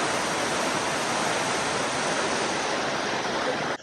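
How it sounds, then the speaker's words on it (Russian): A large, powerful waterfall in Bali roars loudly and steadily, a dense, unbroken wash of falling water heard close up, with no voices. "Водопад неимоверной красоты"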